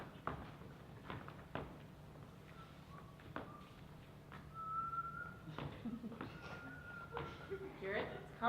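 A person whistles in short, wavering tones that come and go amid talking, soft knocks and footsteps, with the whistling broken and uneven rather than forming a steady tune.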